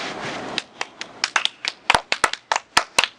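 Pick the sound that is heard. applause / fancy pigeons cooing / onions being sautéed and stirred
applause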